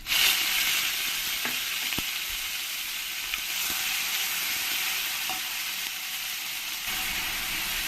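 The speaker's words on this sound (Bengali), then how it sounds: "ভালো করে আমি একটু ভেজে নেবো এবার দিয়ে দেবো এর মধ্যে পেঁয়াজ পেস্ট" Onion paste frying in a pan with dried chillies and bay leaves, a loud, continuous hissing sizzle close up, with a few scraping stir taps and no voices.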